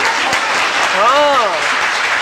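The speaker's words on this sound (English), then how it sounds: "So clap and tell me no." Audience clapping at a talk on science in India: steady, dense applause with a brief voice calling out over it.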